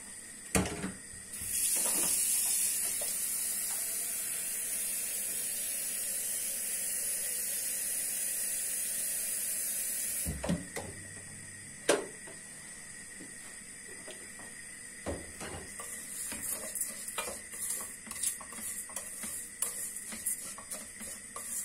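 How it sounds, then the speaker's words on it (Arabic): Bulgur and vermicelli frying in a pot give a steady, loud sizzling hiss, then a sharp burst and bubbling as hot water is poured in, followed by softer irregular crackles and clinks. "يتقلى لنا غير شويه برك ونمرقو بالماء سخون ونخليوه يطيب"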